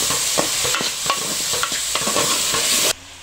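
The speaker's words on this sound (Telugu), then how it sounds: "ఇదిగోండి ఆనియన్ పచ్చిమిర్చి అన్ని రోస్ట్ అవుతున్నాయి కదా" Onion, green chili and tomato sizzle in a pan as a utensil stirs and scrapes them in quick, repeated strokes. The frying stays steady until it cuts off abruptly just before the end, with no talking.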